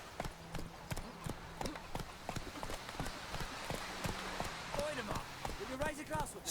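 Roach the horse's hooves clip-clop in a steady, brisk rhythm on the ground in The Witcher 3, close and clear, with some voice sounds rising near the end.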